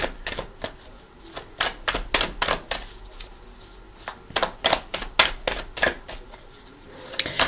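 Tarot cards handled and split down the middle, giving a fast run of crisp papery snaps and flicks, close and fairly loud, with brief pauses between bursts.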